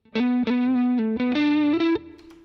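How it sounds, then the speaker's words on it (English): A distorted electric guitar through a guitar synth pedalboard plays a short run of sustained notes on its own, each note ringing loud and thick with effects. "Of course, we can jump to just guitar."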